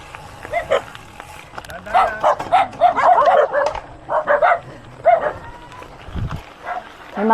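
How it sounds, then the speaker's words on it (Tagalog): Dogs barking at a passing motorcycle rider on a ride through rural Nueva Ecija: a run of several close, sharp barks and yips mixed with engine and wind noise. "May mga asong kalaban."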